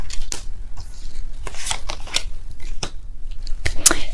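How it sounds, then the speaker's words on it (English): Tarot cards being shuffled and pulled, a near, steady run of crisp riffling and slapping card sounds with no talk over it. "I will be pulling all the cards."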